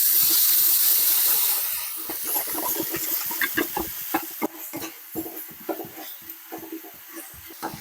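Ginger garlic paste and garam masala frying in a pan for vegetable pulao, a broad sizzle at the start easing into steady stirring, with repeated close scrapes and taps of a spoon against the pan.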